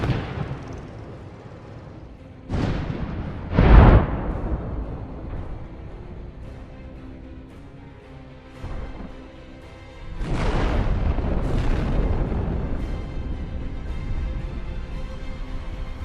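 Heavy explosions as an armoured personnel carrier drives over land mines on a battlefield near Avdiivka, with several deep booms and blasts at varying distances, some sharp and close, others rumbling with long decays, and no voices.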